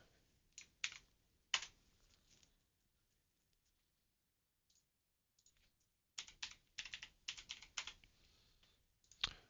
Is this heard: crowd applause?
no